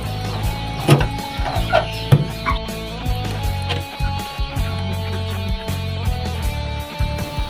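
Chickens cluck in short bursts at a rural homestead, a few close calls over a steady low hum and background noise.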